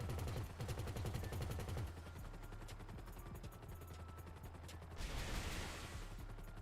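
Rapid gunfire barrage in a modded plane video game, a dense, continuous rattle of shots over a droning engine hum, loud and steady with a brighter burst near the end, no talking.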